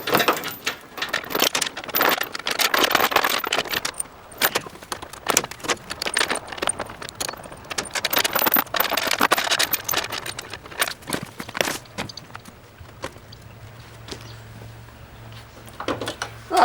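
A derby car's bonnet is worked open by hand, with metallic rattles, clanks and jangling knocks in irregular bursts up close, then quieter handling near the end.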